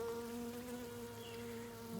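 Stingless bees buzz around an opened hive, a close, steady droning hum that continues unbroken for a couple of seconds with no talking.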